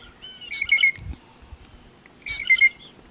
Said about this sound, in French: On entend des jets bleus crier.